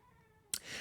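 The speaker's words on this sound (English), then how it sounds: "if you hear meowing, it's my cat down here." A house cat gives a single short meow, fairly close and quiet, in an otherwise hushed room.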